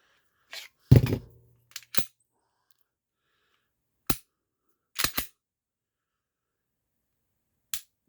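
A Glock 19 Gen 3 pistol trigger is pulled and breaks with sharp, isolated clicks, a few single snaps spaced apart and one quick double click, close and otherwise quiet.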